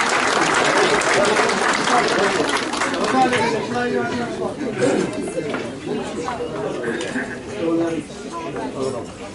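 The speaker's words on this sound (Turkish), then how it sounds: "Kuvvetli alkış isteriz." Villagers at an iftar dinner applaud to welcome a speaker, dense clapping mixed with crowd chatter, strong at first and gradually thinning toward the end.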